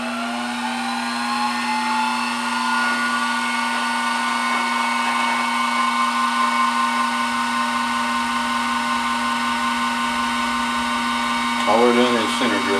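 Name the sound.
milling machine center drilling metal plate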